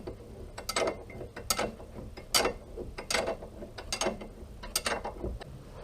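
A ratchet tightens the front brake bolts on a Subaru Forester, giving repeated bursts of quick, close mechanical clicking separated by short pauses.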